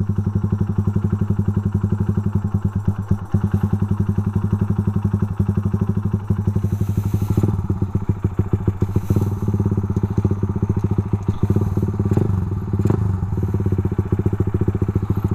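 Honda Sonic 125 motorcycle ridden along a rural road, its engine note loud and steady throughout with rapid firing pulses and occasional thumps and clatter from the bike, wind buffeting the mic.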